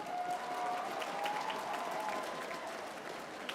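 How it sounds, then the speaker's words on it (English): A faint, distant round of applause from an audience at the opening ceremony of the North American Indigenous Games in Toronto, a steady wash of clapping with a thin sustained tone running through it. "Give yourselves a big round of applause."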